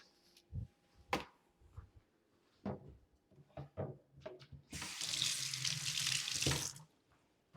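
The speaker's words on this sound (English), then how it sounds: "I like to rinse off my hands." A kitchen tap runs as hands are rinsed after cracking eggs, a loud hissing gush of water lasting about two seconds, preceded by scattered clinks and knocks of bowls and utensils.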